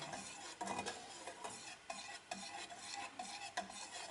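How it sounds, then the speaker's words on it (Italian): Homemade thick Italian hot chocolate with cornstarch being stirred in a pot, repeated scraping strokes of the spoon against the pot in an irregular rhythm, close and fairly quiet, no talking. "a questo punto dovete mescolare, è l'unica cosa che dovete fare, finché non raggiungete poi la densità che vi piace"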